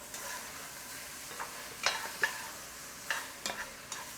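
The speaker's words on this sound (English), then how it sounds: "Then we're going to stir those in and let them get coated in that" Cooked potatoes are stirred into a roux soup base for steak and potato soup. Soft, close scrapes and wet clacks of a spoon against the pot recur irregularly over a faint background.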